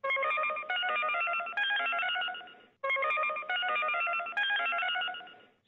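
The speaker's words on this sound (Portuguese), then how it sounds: "bora pro vídeo e atende logo essa ligação" Telephone ringing for an incoming call, a repeated electronic trill in two long bursts separated by a brief gap, loud and close with no voices.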